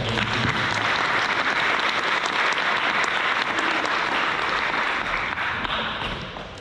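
At a senior awards night, a full audience gives a sustained round of applause, dense and even throughout, easing slightly at the very end.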